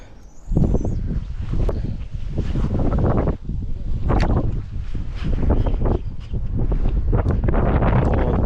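Strong wind at a fishing spot near Vinnytsia batters the microphone in loud, rumbling gusts that surge and ease irregularly, with faint higher rustling between the blasts.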